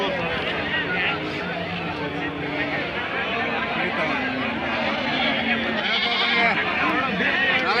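Ram lambs bleat repeatedly amid a dense, noisy crowd at a sheep market, their cries overlapping with constant human chatter and bustle.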